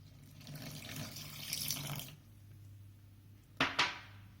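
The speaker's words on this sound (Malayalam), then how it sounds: "100 ml വെള്ളം ചേർക്കാം" A brief stream of about 100 ml of water pours into a bowl of cake batter with egg yolks for a couple of seconds, followed by quiet and two short clinks or taps.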